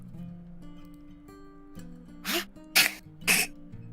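A sudden sneeze bursts out over low, steady background music during a tabletop role-playing stream, followed by two more sharp, cough-like bursts in close succession, all fairly near and loud against the quiet backdrop.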